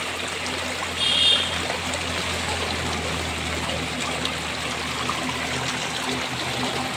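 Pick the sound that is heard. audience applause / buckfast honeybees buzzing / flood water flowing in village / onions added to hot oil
flood water flowing in village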